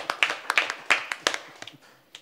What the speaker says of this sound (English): So I'm going to give you my own clap.